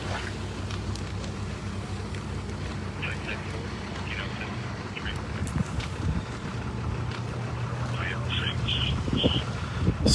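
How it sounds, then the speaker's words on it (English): Strong north wind gusting across a duplex house fire scene in Carl Junction on a frigid day, a steady broadband roar that swells louder toward the end, with faint voices and distant activity beneath it. "Strong wind coming out of the north for a time here, just as we arrived."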